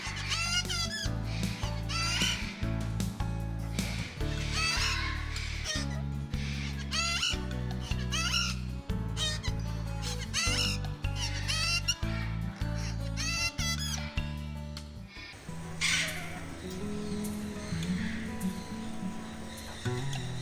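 Parrots at a bird park during feeding time. Busy chirps and squawks come over a loud steady music track, which cuts to quieter ambience near the end.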